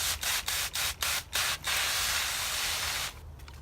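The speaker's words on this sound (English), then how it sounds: "So I'm just gonna go and spray these leaves." Garden leaves sprayed against powdery mildew: a series of short hissing spray bursts in quick rhythm, then one longer sustained spray, close and clear with no talk.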